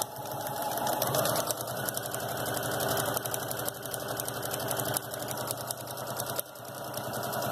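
Sewing machine running steadily while backstitching fabric for children's shoes, a rapid continuous mechanical chatter with small rhythmic knocks, close and moderate in level, with a brief pause near the end.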